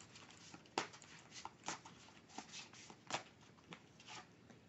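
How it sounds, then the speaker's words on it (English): A deck of oracle cards being shuffled by hand, soft repeated riffling bursts about once per second, close and quiet with no talk. "As I shuffle the deck"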